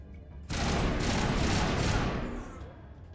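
A sudden, dense burst of gunfire in the sci-fi shooter Mass Effect roars in loudly for about two seconds and then tails off, heard alone without talk.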